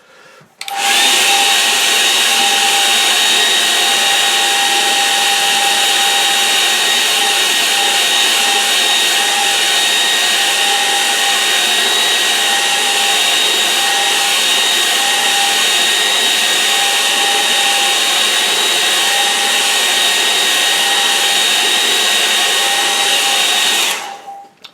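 A hair dryer blows steadily on a watercolour painting of hills and a lake, a loud, continuous close whir holding an even tone from start to finish before cutting off.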